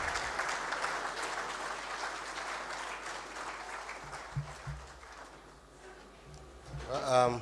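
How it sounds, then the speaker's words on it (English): An audience at a bank trade seminar applauds steadily, the clapping thinning out as a voice speaks over it. "Please, let's keep the applause going until he makes his way to the podium."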